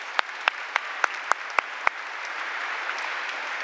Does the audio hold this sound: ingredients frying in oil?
no